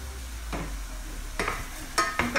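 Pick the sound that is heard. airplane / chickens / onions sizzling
onions sizzling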